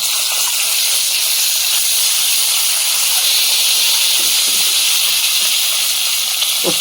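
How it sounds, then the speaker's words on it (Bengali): Eggs sizzle in hot salted oil in a home kitchen, making a loud, continuous close hiss with faint crackles that holds steady throughout. "তেলের মধ্যে লবণ দিয়ে দেবো ডিমগুলো দিয়ে দেবো"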